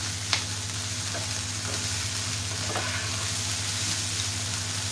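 Okra frying in a pan gives a steady, even sizzle close by, with a low background hum and a few faint clicks of stirring, and no one talking.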